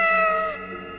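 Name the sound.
cat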